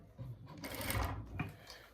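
A sewing machine stitches a pocket seam on a garment, a faint, short whirring run of needle strokes with slight pauses, heard alone.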